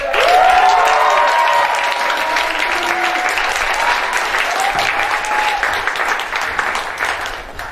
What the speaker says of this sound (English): Please help me with a round of applause to welcome on stage the legend himself,